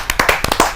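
A handful of sharp, separate hand claps ring out in quick, uneven succession at a Hindi poetry gathering (kavi sammelan), close and fairly loud, with no talking.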